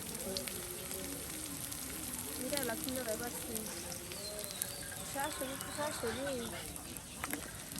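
Ginger paste, chopped onion, chili and cumin paste frying in oil for a village Eid snack, a soft continuous sizzle at moderate level beneath someone talking throughout.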